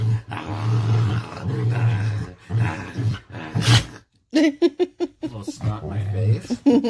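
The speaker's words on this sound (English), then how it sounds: "Ooh, you're a scary dog." A Rottweiler growls and rumbles in low, uneven bursts at close range, broken by short pauses and mixed with human voices and laughter.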